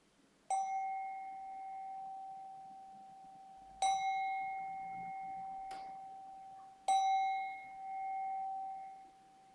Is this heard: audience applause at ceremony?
no